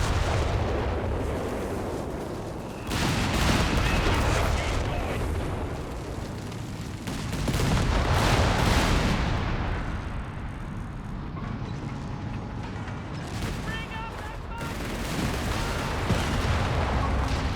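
Rapid anti-aircraft flak gun fire against a recon plane in Company of Heroes 3, dense rolling booms and bursts layered over constant battlefield rumble, loud and continuous.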